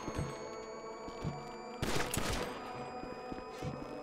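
A stun gun fired in the GTA Online video game lands as one sharp, loud burst midway through, over a steady bed of in-game ambient sound.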